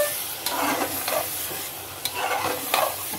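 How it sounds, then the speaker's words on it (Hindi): Mutton and spinach stir-fried in a pan for palak mutton, a steady close sizzle broken by a few sharp scrapes of the spoon as the pieces are turned. "और इसे अच्छे से चलाएंगे, इसको भूनेंगे हल्का हल्का"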